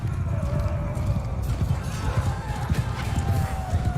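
Galloping horses in the medieval battle game Mount & Blade II Bannerlord, with a dense, continuous clatter of hoofbeats and occasional whinnies, loud and close throughout.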